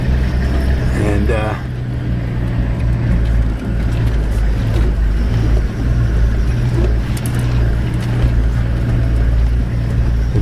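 Vehicle driving over a rough track at Makgadikgadi, a loud, steady low engine and road rumble with rattling jolts throughout, and a voice briefly heard early on.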